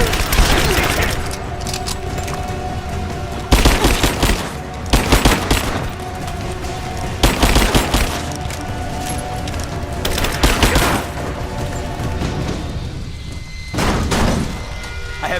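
Sustained covering gunfire in the video game Rise of the Tomb Raider, with loud repeated automatic bursts and booming shots in rapid succession over a dense, continuous battle din.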